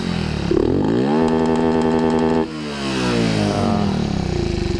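A Raider J115 Fi motorcycle with a 57mm bore and stock exhaust pipe revs up, holds a steady high-pitched engine drone for about a second, drops back briefly, then rises again; loud, close and alone.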